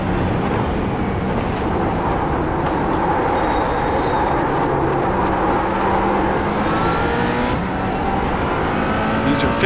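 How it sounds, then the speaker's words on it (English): A McLaren 570S GT4 race car lapping Virginia International Raceway in iRacing, its engine roaring continuously and loudly at high revs, with pitch sweeping up through the gears. "We're in the McLaren 570S."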